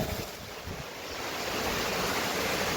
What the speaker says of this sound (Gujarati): પવન બહુ છે ભેગો. જો એક નંબર છે પાણી.